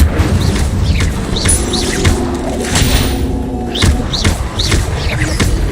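Incendio fire spell cast in the video game Hogwarts Legacy, a dense, loud burst of whooshing, crackling magic with thuds and high chirping effects running throughout the short stretch of combat.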